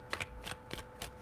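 A deck of cards riffled and shuffled in a few quick bursts, close and fairly quiet, with no voices.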